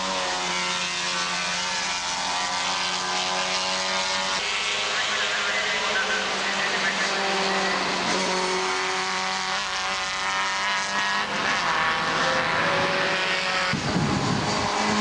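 A Lenham coupe and an MG Midget race past at a circuit meeting, with engines droning steadily and continuously throughout, loud and sustained, with a commentator talking over them.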